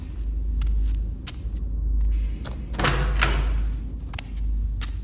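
A door reached for and opened as a drama sound effect, with a low rumble under scattered clicks, a creaking slide, and then a heavier thud, close and fairly loud, with no talking.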